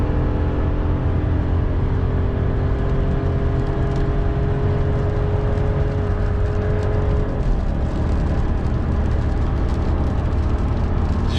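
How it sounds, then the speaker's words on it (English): A 2025 RAM 1500 Hurricane towing a trailer up a 6% grade, its engine and ZF transmission droning loud and steady from inside the cab, pitch climbing as it revs out then shifting lower, no talk. "Did you guys see what that ZF transmission just did? It basically like tried to rev out as much as it could."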